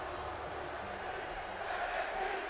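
Steady arena crowd murmur and cheering from a WWE 2K22 wrestling video game, a continuous dense wash of noise with no distinct peaks, over which a voice talks.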